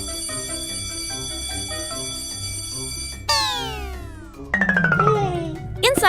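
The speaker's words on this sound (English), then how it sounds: "Outside, Daddy Pig presses the doorbell again." A cartoon doorbell rings at a house's front door. A bright chiming tone sweeps and rings out, then a second burst of busier chimes follows, with steady background music running underneath.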